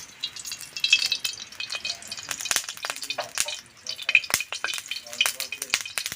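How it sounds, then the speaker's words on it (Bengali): Mustard oil poured into a hot wok after bitter gourd has been fried, followed by a steady, close sizzle with sharp crackling spatters and clinks throughout. "এখন সরষের তেল কড়াইতে দিয়ে দিব।"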